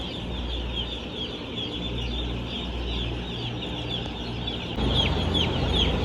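A large poultry coop holding tens of thousands of one-day-old chicks, a dense continuous chorus of high peeping and chirping from many birds at once over a low steady hum, with the peeping growing louder near the end.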